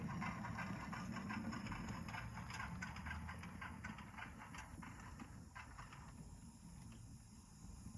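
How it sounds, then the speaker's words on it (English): A Bachmann Spectrum Great Northern 4-4-0 model steam locomotive fitted with a TCS sound system chuffs in a steady, rhythmic beat over a constant low hum, fairly quiet and close. "I got a Bachmann Spectrum Great Northern 440 steam engine that I had a friend of mine put a TCS sound system in"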